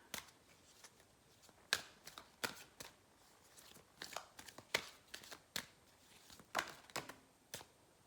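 Angel guidance cards being shuffled in the hands, a run of sharp riffling flicks and soft slaps in irregular bursts, close by and fairly quiet, with no talking.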